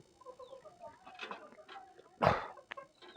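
Native country chickens on a poultry farm clucking and calling, with several overlapping bird sounds and one louder, sharper squawk near the end.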